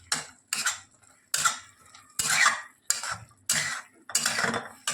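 A metal spoon scrapes and clanks against a pan as prawn rice is stirred and roasted, in about seven loud, close strokes at a steady rhythm with a light sizzle underneath.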